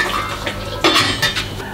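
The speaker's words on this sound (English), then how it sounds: "I'm going to put the lid on" A lid set onto a pot of simmering bolognese sauce on a low heat, giving a few close metallic clinks and clatters in a quiet kitchen with no talk.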